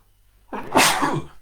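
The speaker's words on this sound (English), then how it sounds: "I can feel a sneeze brewing." A single loud, close sneeze, a short indrawn breath and then a sharp burst, with no talk around it.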